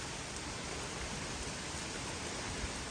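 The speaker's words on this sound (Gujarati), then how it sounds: "વરસાદ ચાલુ થઈ ગયો." Rain pours down on a windy day in London, a thick, uniform wash of falling drops that stays loud and unbroken for the whole stretch.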